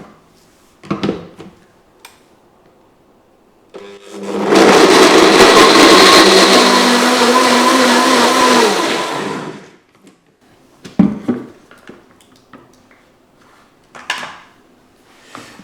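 A blender whirs loudly for about six seconds as it purees soup ingredients, a steady motor roar that starts and stops abruptly, framed by clinks and knocks of kitchen handling before and after.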